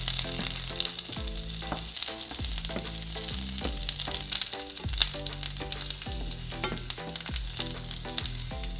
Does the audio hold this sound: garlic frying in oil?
yes